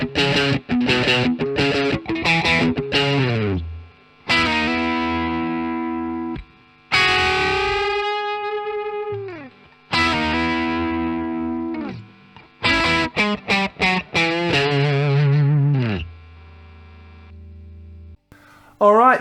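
American and Japanese Telecaster electric guitars played through effects with distortion and chorus, alternating quick strummed bursts and long ringing bent notes with brief pauses between phrases, loud and close.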